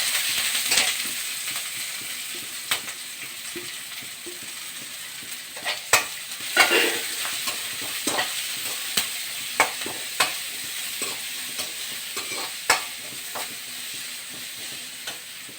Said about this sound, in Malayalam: ഇഞ്ചി വെളുത്തുള്ളി കറിവേപ്പില പച്ചമുളക് കൊച്ചുള്ളി ഇവയെല്ലാം കൊണ്ട് ഒന്നിച്ചിട്ട് നമുക്ക് വഴറ്റാം.